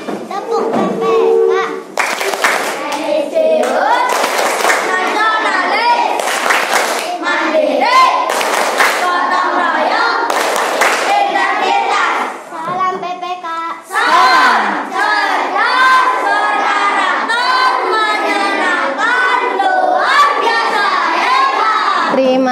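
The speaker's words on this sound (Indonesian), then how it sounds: "Kasih tepuk tangan Bapak Alifa" A class of fifth-grade children in an Indonesian classroom clap and cheer loudly for over twenty seconds, with uneven bursts of hand claps, thumps and excited shouting kids' voices throughout, briefly dipping before picking up again.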